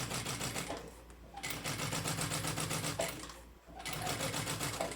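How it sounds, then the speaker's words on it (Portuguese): Sewing machine stitching a seam on a homemade binder and planner cover, a close, steady mechanical whirring chatter in bursts with two brief pauses between runs. "E aqui a gente vai fazer uma costura aqui, ó."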